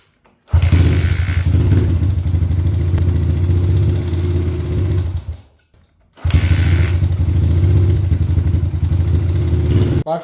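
Honda XL75 motorcycle with a freshly fitted carburetor fires up on a first start attempt, a loud close single-cylinder clatter running steadily for about five seconds, dying out, then catching again and running on.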